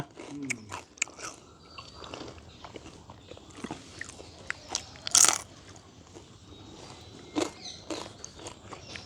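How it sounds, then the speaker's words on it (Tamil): Someone bites into a crunchy homemade cassava snack in a village setting, giving a few sharp crunches and chewing sounds, moderately close, with scattered background noises and footsteps between bites. "கர கரன்னு தான் இருக்குது கடிக்க"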